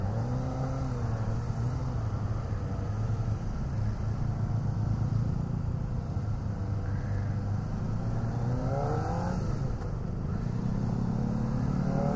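A Kawasaki Ninja ZX25R motorcycle engine drones steadily while riding, with a constant low hum and a couple of brief rising revs, heard close over wind noise and without speech.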